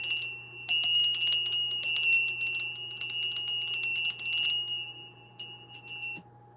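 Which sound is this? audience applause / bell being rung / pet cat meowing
bell being rung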